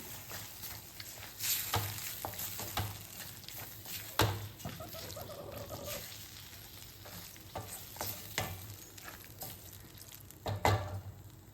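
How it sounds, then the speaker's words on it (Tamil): Paneer bhurji is stirred in a pan over a low flame, scraping strokes rising every second or two over a soft, quiet sizzle. "கொஞ்சம் சிம்மில் வச்சுக்கிட்டு நல்லா கலரி விட்டுடலாம்."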